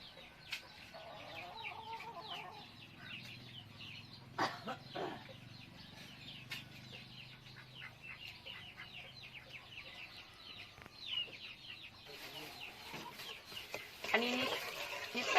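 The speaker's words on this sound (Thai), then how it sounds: "เป็ดไก่" Chickens cluck and chatter steadily in the background of an outdoor Thai kitchen where sour curry is being cooked, with many short faint calls throughout and a louder burst near the end.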